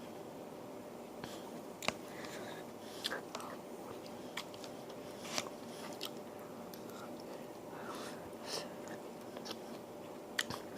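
Quiet close chewing and biting while eating 7-Eleven Japanese curry with sticky rice, soft irregular mouth sounds and small clicks over steady background hiss.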